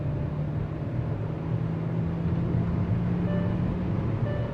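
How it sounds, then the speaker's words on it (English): Kia Seltos turbo-petrol engine with iMT gearbox pulling hard at full throttle in 3rd gear from about 80 km/h, a steady droning hum inside the cabin with a faint rising whine, alone without talk. "this motor overall sounds quite good. Let me show that to you. Try to listen to the engine."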